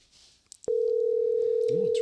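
A steady telephone dial tone comes in abruptly after a few faint clicks of handling, holding loud and unbroken for over a second before a number is called back; a brief voice-like murmur surfaces near the end.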